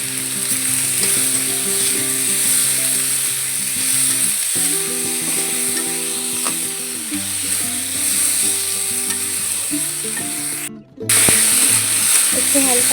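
Loud, continuous sizzling of food frying in a pan, with occasional stirring scrapes and a low hum running underneath throughout.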